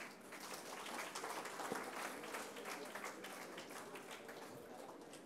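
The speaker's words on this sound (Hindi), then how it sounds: "तो इस खुशी में आप सभी अपने लिए भी तालियां बजाएंगे" Participants at the inaugural session of a self-care and self-compassion program applaud in a steady, dense wash of clapping that sounds faint and distant, holding evenly throughout.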